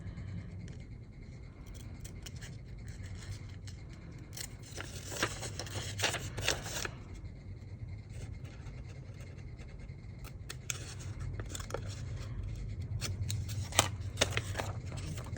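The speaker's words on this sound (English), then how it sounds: "And we will cut away the little corner that we don't need." Scissors cut away a small corner of paper, giving a few close, crisp snips and light scraping sounds over a low steady background hum.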